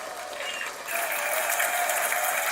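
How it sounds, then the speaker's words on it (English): Hand clapping from a small audience, a moderate patter that swells slightly partway through and then continues steadily at a modest level. "give you a real hand clap because she deserves it"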